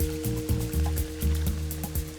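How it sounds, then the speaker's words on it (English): Boiling water pours and splashes over French green lentils, a continuous, fairly quiet liquid gush with low gurgling, heard alone without voices. "Just cover them with boiling water and let them soak for about 15 minutes"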